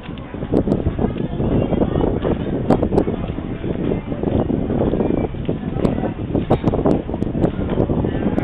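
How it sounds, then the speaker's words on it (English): Gusty wind at Santa Monica Pier buffets the microphone in a continuous low rumble, with faint rustling and occasional sharp crackles. "Ah, windy."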